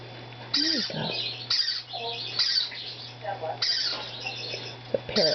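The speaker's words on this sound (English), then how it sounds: "The parrotlet squawking in the background." A pet parrotlet squawks from the background while budgies are hand-fed, giving repeated sharp squawks and chirps alongside a quiet human voice.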